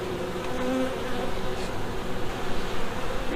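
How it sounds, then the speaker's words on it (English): Honey bees buzz steadily at a hive with a quilt box and candy board, a dense close drone filling the whole stretch with slight swells in loudness and no voices. "We have some bees on the bottom."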